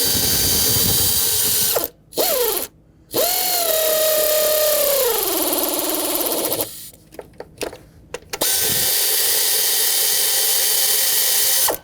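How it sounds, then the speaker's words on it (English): An air ratchet runs down valve cover bolts on a 2013-2020 Nissan Pathfinder 3.5L V6 in several loud mechanical bursts, separated by short gaps and a slowing whine as the tool spins down. "I'm using my air ratchet, but I'm not using it to tighten it."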